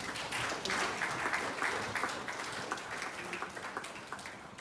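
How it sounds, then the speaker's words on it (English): A crowd claps steadily in a large room. The applause is dense and sustained and fades slightly toward the end. "Please clap for her"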